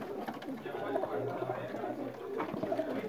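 Sialkoti breeder pigeons coo softly in low, rolling murmurs that repeat and overlap, steady and close by, with faint voices and ambient noise around them.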